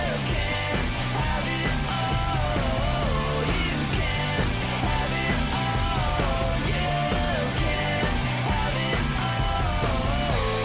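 A single plays as a loud, dense full-band rock track, continuous throughout with no talking over it.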